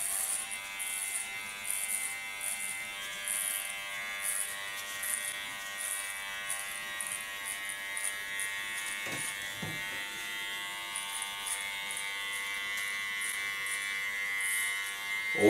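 Electric hair clippers give a steady, close buzz throughout a nape shave, with small shifts in pitch as they move over the hair.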